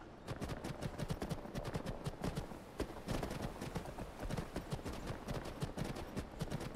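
A horse gallops in Skyrim, its hooves pounding in a fast, rapid rhythm that stays close and steady throughout, with no speech over it.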